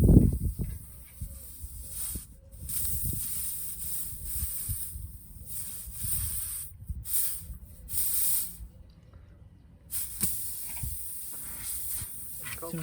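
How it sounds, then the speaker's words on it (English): Air hisses steadily out of a pierced Land Rover Discovery TD5 air suspension airbag, a soft continuous spray-like leak with brief gaps, heard close under occasional talk. "put it in the side of the airbag, and it will go. And that is now leaking air"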